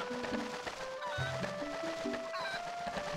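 Cartoonish chicken clucks and squawks in the busy soundscape of the video game The Legend of Zelda: Twilight Princess HD, several short bursts over a steady background bed, fairly close.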